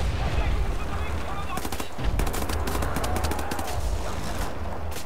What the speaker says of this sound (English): let's try the submachine gun